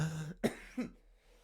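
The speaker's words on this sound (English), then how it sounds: "Oh God, I want to cough so bad." A couple of short, sharp coughs close by, following a brief vocal sound, then quiet.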